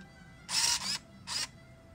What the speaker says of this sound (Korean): 이렇게 2라고 돼 있을 때 셔터를 누르면